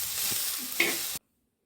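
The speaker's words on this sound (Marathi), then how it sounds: "कांदा आता लालसर होत आहे आपला, त्याला पूर्णपणे परतवून घेऊ" Onion frying until reddish in a pan for Khandeshi faujdari dal masala: a steady hiss of sizzling with a few stirring scrapes, then sudden silence after about a second.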